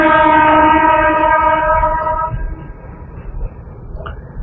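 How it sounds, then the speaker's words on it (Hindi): A passing train sounds a loud, sustained horn for about two seconds. The horn fades into a rumbling, rattling roll of wheels on the track, heard close by. "ट्रेन जा रहा है, मैं क्या करूं।"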